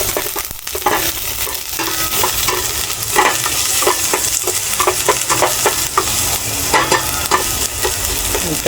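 Pancit canton with sardines sizzles steadily in a very hot, smoking pan while a utensil scrapes and stirs in repeated strokes, close and continuous.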